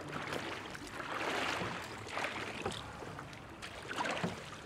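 Small motorless boat paddled out toward open sea, with water splashing and sloshing in uneven surges against the hull, fairly close and steady, with no voices.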